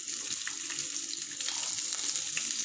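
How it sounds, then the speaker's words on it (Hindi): Chopped onions hitting hot oil with cumin for a spinach and corn curry, a continuous dense crackling sizzle at close range with no one speaking. "अब इसमें हम प्याज डाल देंगे, चॉप प्याज जो है वो हम इसमें डाल देंगे"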